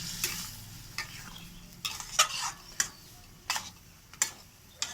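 Spices with salt, turmeric and Kashmiri chili are stirred and fried in a pan, giving a soft, steady sizzle broken by sharp scraping clicks of a utensil at irregular intervals. The sounds are quiet and close, with no voices.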